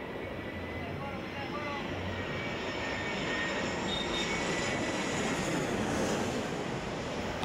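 A jet airplane climbing low over rooftops right after takeoff from Camilo Daza airport, a loud continuous roar that builds slightly and fills the whole stretch.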